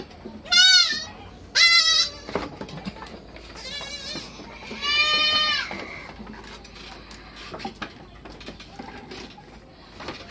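Goats and their young kids, under a month old, bleating on a farm: two loud, high bleats near the start and a longer wavering bleat in the middle, with quieter farmyard clatter and faint animal calls between them.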